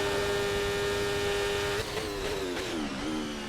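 A Formula 1 car at the F1 2024 Mexican Grand Prix in an F1 video game, a loud high-pitched engine whine held steady on a push lap, then dropping and wavering through downshifts near the end.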